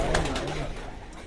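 Pigeons cooing in a loft of racing birds being trained for competition, soft low throaty coos from a few birds, close and fairly quiet over a brief stretch.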